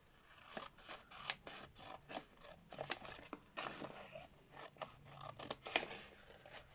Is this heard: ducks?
no